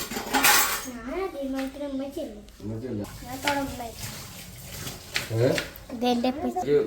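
A load of dishes and pots is handled in a home kitchen, with metallic clinks and clatters scattered under steady conversation that includes a voice.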